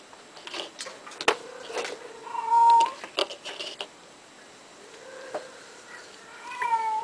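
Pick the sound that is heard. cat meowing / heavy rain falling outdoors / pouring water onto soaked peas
cat meowing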